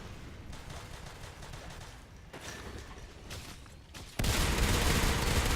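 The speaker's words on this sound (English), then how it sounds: "That was a lot of gunfire." Bursts of rapid gunfire from the video game Natural Selection 2 crackle continuously, then a sudden louder, denser barrage erupts near the end, with no voices heard.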